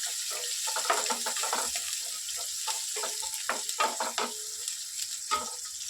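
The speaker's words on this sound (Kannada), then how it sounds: "ಉಳ್ಳಾಗಡ್ಡಿ ಹಾಕೊಳತ್ತೀನಿ. ಇದಕ್ಕೆ ಚಂದ ಹುರ್ಕೋರಿ." Chopped onions fry and sizzle in a pan, a steady hiss broken by repeated scraping and stirring knocks, close and fairly loud, with no talking.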